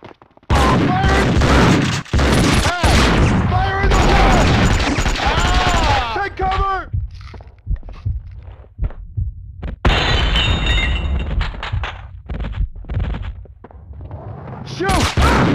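Gunfire from the Max Payne 2 action game arrives in loud, sharp bursts mixed with dense game sound and voices speaking over it, with several separate clusters of shots spread through the stretch.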